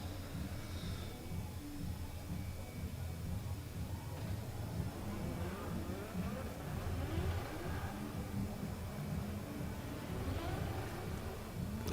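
A drift car at the Oman International Drift Championship 2026 Round 2 finals warms up its front tyres, giving a dense, steady engine rumble with rising and falling revs and no clear pause across the stretch.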